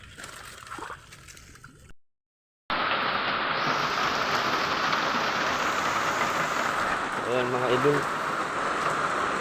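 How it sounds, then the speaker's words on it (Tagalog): Heavy rain pouring down during an outdoor fishing trip, a dense, steady hiss that follows someone talking briefly and then continues on its own, close and loud. "malakas yung ulan."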